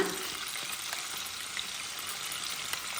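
Chicken and onions fry steadily in a pan over moderate heat, giving an even, continuous sizzle that stays at one level throughout, with a few faint clinks and no voices.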